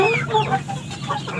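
Free-range village chickens in a coop clucking and murmuring close by, several overlapping short clucks and squawks in an uneven chatter.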